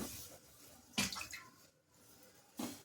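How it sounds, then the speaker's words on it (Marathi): Soft wet patting and splashing of water by hand onto a jowar flatbread on a hot griddle, in a few brief bursts with quiet gaps between them. "आता व्यवस्थितपणे हिला आपण पाणी लावून घेऊया।"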